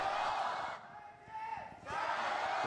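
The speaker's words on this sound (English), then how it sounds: "Big noise from the crowd." A loud esports arena crowd at an LPL League of Legends match roars and cheers, dips briefly, then swells back to a sustained, distant-sounding cheer.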